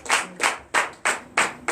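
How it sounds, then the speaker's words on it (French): Rhythmic clapping from a church congregation during a Sunday service in Benin, six loud, even, unison claps spaced about a third of a second apart, close and clear, with no talk. "Donnez l'acclamation à Jésus."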